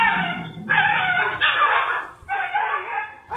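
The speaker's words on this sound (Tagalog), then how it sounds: "maririnig ang iyak ng isang aso" A dog cries in long, strained, wailing yelps in a residential compound at night, caught on a security camera: several drawn-out cries with brief gaps, somewhat distant and echoey, with no talk.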